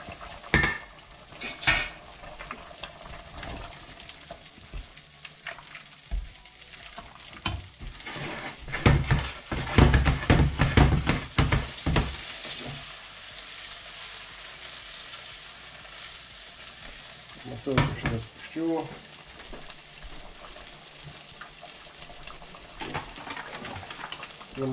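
Butter fries and sizzles in a pan while being stirred, for making pork tripe, with a steady hiss broken by scraping and clinking of utensil against the pan, a busier burst of stirring in the middle, no voices.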